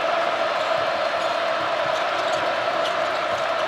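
A basketball arena crowd murmurs and roars in a steady broad wash of noise at a Missouri game, loud and sustained, with a commentator talking over it.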